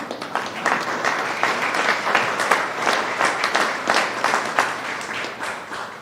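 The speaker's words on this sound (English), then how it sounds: "give yourself a round of applause" Sustained applause from an audience at a small business recovery funding announcement, dense steady clapping filling the room for several seconds without pause.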